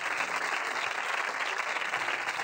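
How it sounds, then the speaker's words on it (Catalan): A studio audience at a television programme claps together in a short, even burst of applause, heard alone without speech. "amb aquest aplaudiment de simpatia les passem al nostre set"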